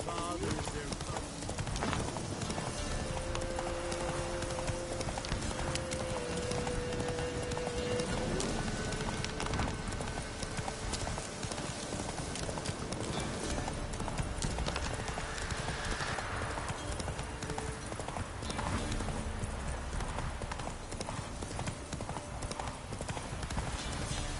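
Hoofbeats of a horse galloping in The Witcher video game, a steady rapid clip-clop running throughout against a dense game soundscape, with a brief whinny and someone speaking at times.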